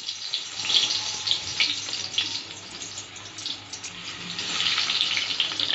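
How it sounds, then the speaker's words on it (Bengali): Potatoes fry in mustard oil with a soft, continuous crackling sizzle that rises and falls gently over a steady hiss, with no voices present. "এবার প্রথমে আমি আলুগুলো ভেজে তুলে রাখবো।"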